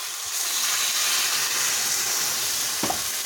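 Steady loud sizzling and hissing from water poured into a hot pan of fish stewing Tatar-style with milk, a bubbling frying hiss that continues throughout, ending with a soft knock near the end.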